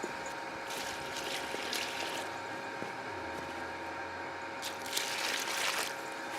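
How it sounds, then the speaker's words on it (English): Water poured into Quikrete concrete mix in a hole dug for a small-yard clothesline post, a steady outdoor gushing, filling sound with a low rumble underneath and brief bursts of splashing, no voices. "I'm going to add some water first."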